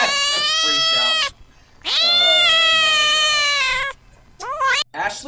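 Cats meow and caterwaul in three loud, drawn-out wailing calls close by, with short pauses between them and a brief yowl at the end.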